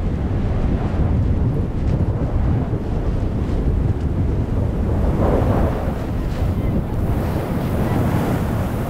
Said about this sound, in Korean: 현재 6급, 즉 초속 12m 정도의 바람이 불고 있다.